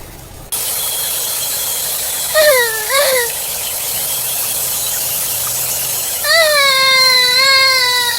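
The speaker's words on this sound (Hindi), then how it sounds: "ये रोने की आवाज कहां से आ रही है?" A wailing, pitch-swooping cry rises in short bursts over an empty farm field, two quick sobs and then a longer sustained wail, loud and close against a steady hiss of background noise.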